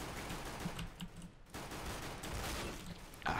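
Counter-Strike: Global Offensive gunfire, a quiet, distant-sounding rapid spray of shots in bursts, with a short pause midway and a sharper burst at the end.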